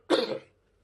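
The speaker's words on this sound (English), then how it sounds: "It's making me cough." A single short, sharp cough from a man, close to the mic and abrupt, fading quickly into silence.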